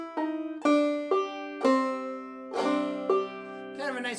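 A clawhammer banjo plays a short chromatic line from the tune Fly Around, with slow, distinct plucked notes ringing out one after another, close and solo, with no talking.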